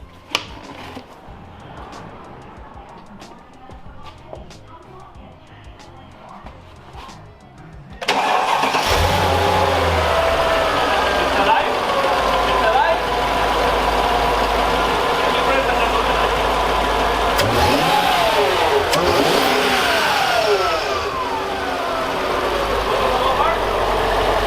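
A supercharged Mercedes CL55 AMG, with its supercharger belt and fan reinstalled, cranks and fires up after a quiet stretch with faint clicks. It then runs loud and close with rising and falling revs, while a voice talks over it.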